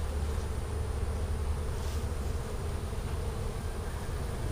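A honeybee swarm being moved by hand, along with its free-hanging comb, gives a steady, dense buzzing drone that holds level throughout with no pauses and no talk.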